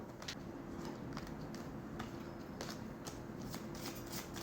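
Tarot cards are shuffled by hand in a quiet room, giving a soft continuous riffling with repeated light slaps and flicks, fairly faint and steady with no talking.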